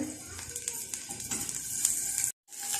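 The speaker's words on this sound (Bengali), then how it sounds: "একটা একটা করে বল আমি দিয়ে দিচ্ছি তেলের ভিতরে" Chicken balls sizzle in a shallow pool of soybean oil, a continuous crackling fry close by with a few soft clinks of a utensil, cutting out briefly near the end before resuming.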